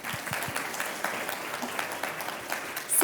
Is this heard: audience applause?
yes